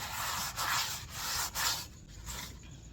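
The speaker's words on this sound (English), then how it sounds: "with a napkin, I'm just gonna rub it all over here" A napkin rubbed over a Dutch oven at a lakeside campsite, making close, raspy back-and-forth scrubbing strokes in a steady rhythm with short pauses between them.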